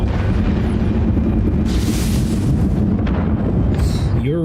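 A subsurface missile explodes in Elite Dangerous: Odyssey while materials are farmed on Cocijo, a loud sustained roaring rumble with a brighter burst midway and warbling tones fading in at the end.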